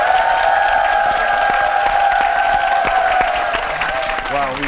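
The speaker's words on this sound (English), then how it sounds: "we get a loud cheer for scoring points" Quiz show studio audience cheers and applauds after a contestant scores points, loud and sustained, with a steady electronic tone running under it and fading as a voice begins near the end.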